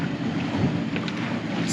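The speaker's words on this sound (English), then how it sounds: "A little windy." Wind gusts rumbling against a microphone on a boat, with a steady low roar and faint water noise throughout.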